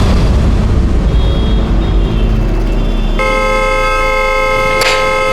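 Car horn blaring continuously and loud, a steady harsh tone that shifts pitch partway through, over traffic and street noise with no pauses.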